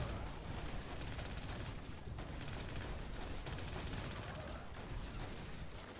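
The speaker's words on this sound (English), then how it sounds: "The bot shooting noise." Dense, continuous gunfire from bots in Destiny 2 rattles on for the whole stretch, a loud layered barrage with no clear gaps and no talk over it.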